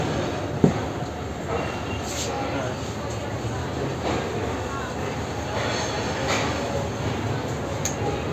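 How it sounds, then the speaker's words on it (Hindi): Steady rumbling rail noise inside the economy class coach of the Jaffar Express passenger train, a Pakistani train in motion, with faint clicks and one sharp knock, while a person talks over it. "ये है जाफर एक्सप्रेस की इकॉनमी क्लास"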